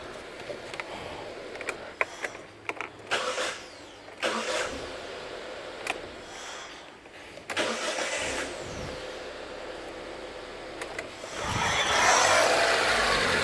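A Mitsubishi Lancer idle air control valve motor is driven through its full travel with the engine near, making faint stepping clicks and ticks at first, then a rising, steady hiss and whir toward the end.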